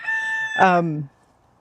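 A Silkie hen outdoors gives a single short, clear vocal call, close and fairly loud, rising into a brief harmonic squawk before falling silent.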